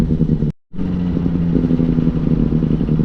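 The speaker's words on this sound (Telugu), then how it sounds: "ఇంకా 20లో పోతే మాత్రం బైక్ అసలు గడగడ కొట్టుకుంటుంది" A Benelli 600i motorcycle with a loud exhaust rides through city traffic, its engine a steady, close, throbbing rumble that drops out abruptly for a split second before resuming at full strength.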